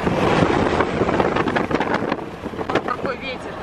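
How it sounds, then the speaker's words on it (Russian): Strong wind in the mountains near Tashkent buffets the microphone in gusty, roaring bursts, with some voices faintly mixed in underneath. "Какой ветер."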